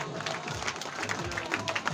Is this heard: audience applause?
yes